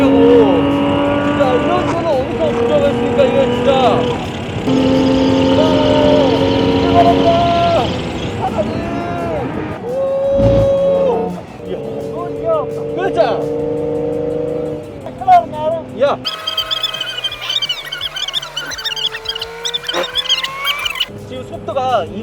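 A Pagani Utopia's V12 exhaust roars on the Monza circuit while running on Pirelli P Zero Trofeo RS tyres, loud and close, climbing and dropping through gear changes with sharp crackles and pops. Voices talk in the cabin over it.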